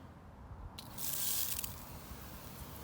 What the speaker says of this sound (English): we're going to spray it down with some engine degreaser